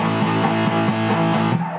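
Electric guitar on a humbucker pickup runs through a modded Boss DS-1 distortion pedal, the Lily of the West Penguin mod, giving a steady saturated tone with a regular pulse of picked attacks over sustained notes, close and alone.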